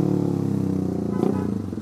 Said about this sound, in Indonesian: menurut gua knalpot gua ini berisik banget